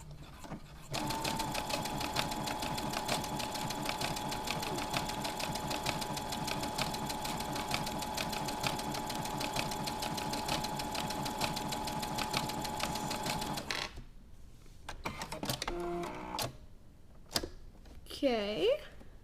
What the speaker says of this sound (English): Now we're going to sew.